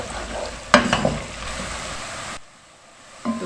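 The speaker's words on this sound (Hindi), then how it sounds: "प्याज को लाइट गोल्डन होने तक फ्राई कर लेंगे।" Onions frying to a light golden color for murgh cholay, a steady close sizzle with a sharp stirring scrape near the start, then a sudden drop to near quiet before a brief return of sizzling.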